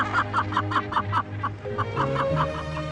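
A crowded gannet colony on an African island fills the air with rapid, rhythmic, harsh calls. The calls overlap densely at close range and keep going without a break.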